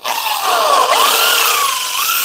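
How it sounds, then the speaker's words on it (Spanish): Drill bit boring a centre hole into a broken Spicer axle stud on an artillery-type hub, a high, continuous whining grind with slight pitch wavers as the bit bites the metal, close and loud. "Colocamos aquí la broca. Y esta broca nos ayuda a marcar un centro"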